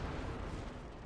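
A deep, rumbling explosion from the video game Dragon Age Inquisition, heavy low-end boom rolling across the whole short moment, fairly loud and without voices.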